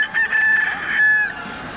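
A rooster crows at a Friday bird market in Buraydah, one loud, close, drawn-out cock-a-doodle-doo lasting over a second, standing out clearly with no talk over it.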